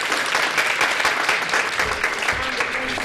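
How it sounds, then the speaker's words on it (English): An audience gives a round of applause at a talk on safety strategies for women, dense steady clapping filling the room for the whole stretch with no voices over it. "let's give them a round of applause."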